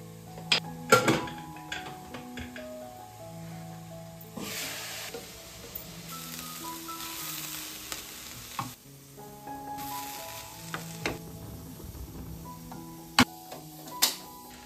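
Carrot stir-fry sizzling in a home kitchen pan, a steady soft frying hiss broken by clinks and scrapes of a utensil against the pan, with occasional sharper taps.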